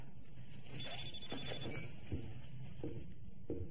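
A telephone rings indoors in a quick burst of rapid electronic trills lasting about a second, followed by quiet room sounds and faint movement.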